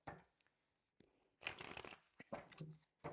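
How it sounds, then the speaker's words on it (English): A deck of tarot cards being shuffled close up, quiet riffling bursts and soft flutters with brief pauses between them. "I'm going to shuffle one more time"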